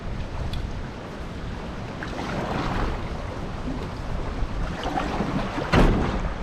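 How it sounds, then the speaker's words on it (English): Strong gale wind roars across the microphone in continuous gusts on the Macalister River, Australia, with river water washing underneath and a sharp buffet near the end. "there is an absolute howling gale"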